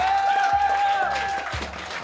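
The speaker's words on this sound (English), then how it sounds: "Clap it up if you're ready for the Roastmasters" Crowd applause and cheering from a live comedy roast audience, a continuous wash of clapping mixed with whoops and sustained voices, fairly loud and close throughout.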